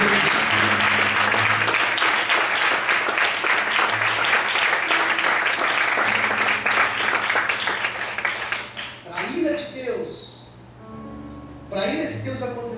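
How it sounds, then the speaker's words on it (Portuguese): Church congregation applauding during a sermon, a dense sustained wash of clapping that thins out toward the end as a voice speaks over it, with a low sustained keyboard tone underneath. "Será que você pode glorificar e aplaudir ao nome do Senhor?"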